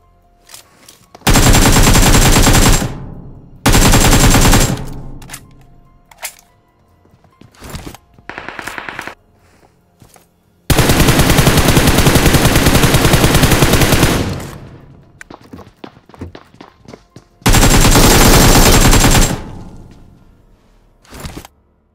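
Machine gun fire in the BGMI mobile game from MG3 and AKM guns: loud sustained automatic bursts of several seconds each, separated by short single shots and pauses.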